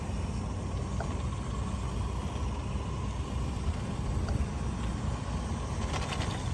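A 1985 Nikko 1/10 Pontiac Firebird RC car runs steadily with a continuous motor whine and tire rush, staying close and even throughout with no pauses.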